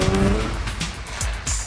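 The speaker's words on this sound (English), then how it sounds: "Like earlier Mazda rotaries, this one also has a buzzy sound, and it just seems to love to rev" A 2004 Mazda RX-8 rotary engine revs buzzily while driving, heard from inside the car as a steady broadband drone with slight rises and dips and a few faint chirps over it.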